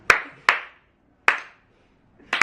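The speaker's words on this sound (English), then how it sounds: "Just a slow clap." One person gives a slow, deliberate hand clap indoors, three sharp claps spaced widely apart followed by the start of a fourth, each close and crisp with silence between.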